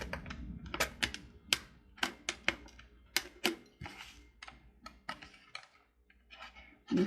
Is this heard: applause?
no